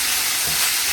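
Garlic, ginger, tomato and bell pepper frying in a hot pan for egg roll filling, giving a steady, dense sizzling hiss close by for a brief moment.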